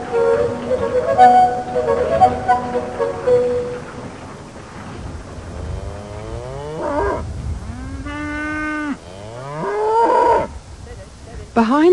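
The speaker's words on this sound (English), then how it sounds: "the home of Ray and Sheila Barber, the meadows are grazed by an odd assortment of contented-looking cows, bullocks, ponies, sheep and donkeys" Cows and bullocks on a grazing meadow behind a farm, giving several long, loud moos that rise and fall, one after another, close by with no talk.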